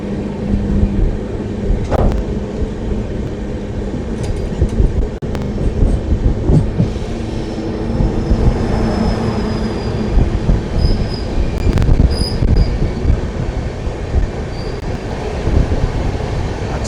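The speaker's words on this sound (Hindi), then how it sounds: "अच्छी रफ्तार के साथ आगे बढ़ती हुई हमारी ट्रेन।" A passenger train runs at good speed on a diverted route out of New Delhi, with steady rolling wheel rumble, rhythmic clacks over rail joints and occasional faint high squeals, heard close and continuous without voices.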